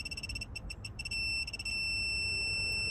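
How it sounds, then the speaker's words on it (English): A 3/8-inch drive digital torque wrench rated 2.2 to 44.2 beeps as a bolt is tightened: rapid high-pitched pulses at first, then a steady continuous tone once target torque is reached, alone and fairly close. "You hear it beeping."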